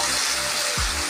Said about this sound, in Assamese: আমি তাকো অলপ দি বুলি সকলোৱে খাম বুলি একেলগে ছাগলী মাংস ভাজিছোঁ।